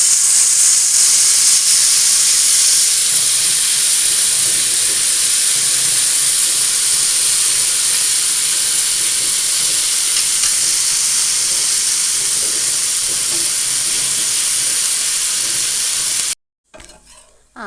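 Potatoes shallow-frying in hot oil, a loud, steady, close sizzle and hiss that runs unbroken before cutting off abruptly near the end.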